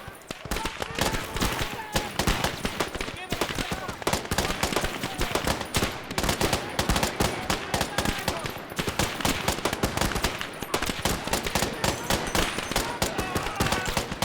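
Sustained machine gun fire from a WW1 mod of the Gates of Hell war game: dense, loud bursts of automatic gunfire and overlapping shots with no let-up, while a voice talks intermittently underneath.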